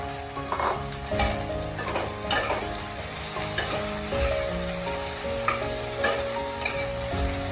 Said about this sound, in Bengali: এবার আমি আধ ভাজা ঢ্যাঁড়সগুলো এর মধ্যে দিয়ে দিলাম